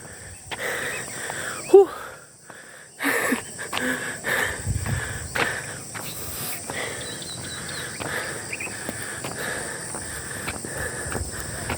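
A jogger breathes heavily while running along a rural barangay road in Leyte, with ragged wheezing pants and sniffs close to the microphone. Footsteps and faint outdoor ambience sit underneath, and no one speaks.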